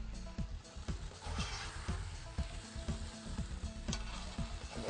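Cumin, cinnamon and cloves frying in a pan with chicken, a soft steady sizzle with occasional light stirring scrapes and clinks, fairly quiet and close.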